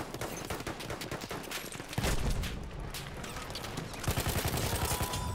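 Dense, continuous gunfire in a military shooter video game, rapid overlapping shots and bursts filling the whole stretch, loud and close.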